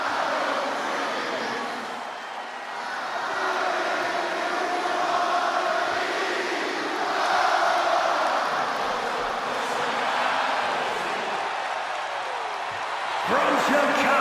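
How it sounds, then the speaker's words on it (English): Crowd ovation in the WWE 2K26 wrestling video game as CM Punk enters before his hometown Chicago crowd: a steady, dense roar of cheering that swells and holds throughout, with no clear break. "Just listen to this ovation for the Second City Saint."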